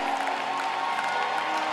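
A church congregation applauding and cheering for Jesus in a dense, steady wash of clapping and crowd noise that runs through the whole short stretch.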